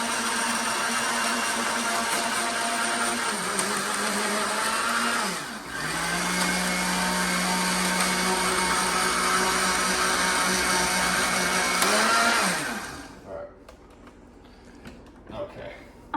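A blender whirring through a bulking shake, loud and continuous, the motor pitch dropping briefly as the load shifts, then running steadily before cutting off abruptly, followed by quiet.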